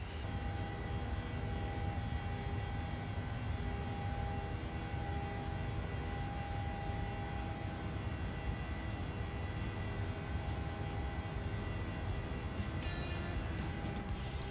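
A flight-simulator airliner departs New York bound for Chicago, its engines a steady, dense roar with constant tonal whine that holds unbroken and loud throughout, with no talking.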